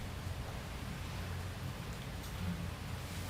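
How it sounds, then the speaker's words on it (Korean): Steady rain falls outside, a dense, even hiss of drops that continues through the whole moment at a moderate, close level, with no one speaking. "빗소리 들리죠?"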